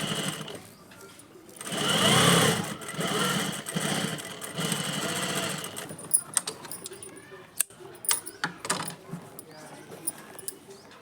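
Sewing machine stitching elastic onto fabric for a child's garment, a loud whirring burst near the start, then shorter runs, clicks and handling noises as the material is repositioned, with a voice speaking at times.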